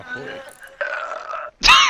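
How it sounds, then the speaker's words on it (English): Burps and grunting vocal sounds in the pirate video game Sea of Thieves, a few short close bursts separated by brief gaps, ending in a louder, harsher belch. "they just went to burp on us?"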